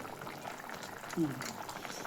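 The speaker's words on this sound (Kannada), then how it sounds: "ಈಗ ಚಿಕನ್ನ ಕುದ್ದೈತೆ ನೋಡಿ ಮಸಾಲೆ ಆ್ಯಡ್ ಮಾಡೋಣ" Chicken boiling in water in a pot for chicken sambar, a soft steady bubbling simmer with a single louder pop near the middle, fairly quiet.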